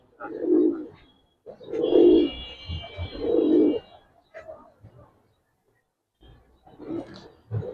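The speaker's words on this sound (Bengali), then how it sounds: "10টা চ্যাম্পিয়ন এই খাকি কবুতর গুলো এখন আমরা দেখাইতেছি" Khaki champion giribaz pigeons coo in a loft in Old Dhaka, with several low, throaty rolling coos in bursts and short pauses between them, close by.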